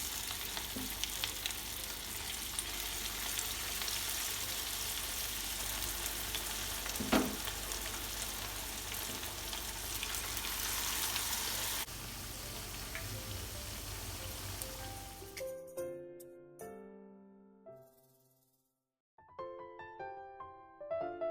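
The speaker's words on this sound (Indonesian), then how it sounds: "Lalu digoreng sisanya sampai adonannya habis." Tempeh fritter batter fries in hot oil with a steady, close crackling sizzle for about fifteen seconds, then the frying stops and a few brief clinks and tonal sounds follow.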